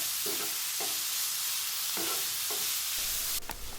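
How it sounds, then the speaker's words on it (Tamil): Grated bottle gourd sautéing in ghee for a wedding-style payasam, with a steady close sizzle running throughout and a few soft stirring scrapes at irregular intervals. "அடுத்ததாக நம்ம துருவி வச்சுருக்கிற சுரக்காயை உள்ளே சேர்த்துட்டு இந்த நெய்லியே ஒரு 5 நிமிஷம் போல் இதை நல்லா வதக்குங்க."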